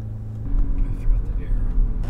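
A 2024 Chevrolet Corvette C8 Z06 V8 engine idles and revs just after its first startup, a steady low rumble with rising surges, up close, under quiet background voices.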